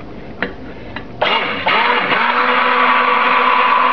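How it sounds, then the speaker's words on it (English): A stick blender mixing oats and honey soap batter starts after a couple of faint clicks, then runs as a loud, steady, high-pitched whirring drone to the end. "now it's going to get a little loud because I need to use my stick blender here"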